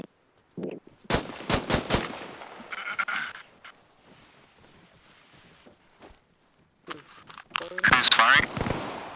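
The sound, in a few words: gunfire in the video game Arma Reforger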